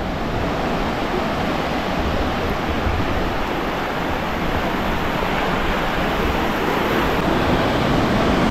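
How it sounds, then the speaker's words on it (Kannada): Waves crash continuously on a Goa beach, a loud, dense roar of surf filling the scene with steady wash and rumble and no voices on top. "ಈ ಬೀಚ್ನ ಅಲೆಗಳ ಸದ್ದಿಗೆ"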